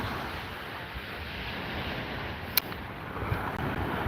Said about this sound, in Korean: 파도 소리 좋지